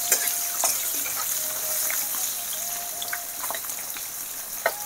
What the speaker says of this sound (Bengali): আলুটাও হালকা ভাজা করে নিচ্ছি।